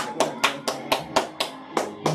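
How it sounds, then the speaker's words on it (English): A few people clapping in an indoor studio, an even, brisk series of about nine close hand claps at a steady rhythm. "Let's clap it up, baby."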